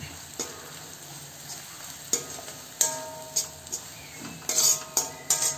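Ground spices with turmeric powder are stirred in a pan over a low flame: a quiet, steady sizzle runs under repeated clinks and scrapes of a metal spoon, growing busier toward the end.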